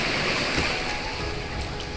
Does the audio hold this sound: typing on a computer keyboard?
no